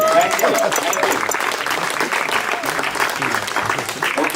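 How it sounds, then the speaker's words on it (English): Wedding guests applaud at a couple's celebration, a loud, dense wash of clapping that holds steady throughout, with voices mixed faintly underneath. "you should clap for yourself"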